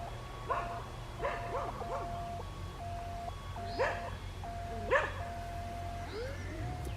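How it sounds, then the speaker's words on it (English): A farm dog barks at a distance across a UK field, giving several separate yips and barks spread over the seconds with a faint steady hum underneath. "Oh, I got the farmer's dog barking at me."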